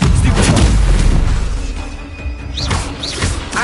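Spell impacts from the video game Hogwarts Legacy, heavy booming blasts and crashes in quick succession with a couple of bright whooshing zips near the end, loud and continuous over a dense game soundscape.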